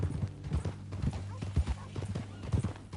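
Horse hooves clip-clop in a steady, close rhythm in the Red Dead Redemption 2 video game, with a snort and whinny mixed in and people talking over the hoofbeats.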